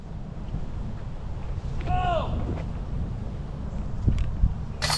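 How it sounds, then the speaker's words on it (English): Gusty wind buffets the microphone outdoors on a disc golf course, a rough continuous roar as a storm blows in, with a brief faint voice-like sweep midway and a couple of sharp knocks near the end. "There's a storm blowing in. It's getting really windy out here"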